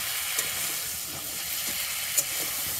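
Crab frying in a pan, a steady bright sizzle and hiss running throughout with a couple of faint clicks, close and even, no voices.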